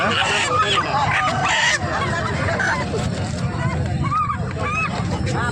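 Poultry crowd at a Sunday chicken market in Jampet, Rajahmundry, with loud, continuous clucking and squawking layered over a steady hubbub of nearby voices and market bustle.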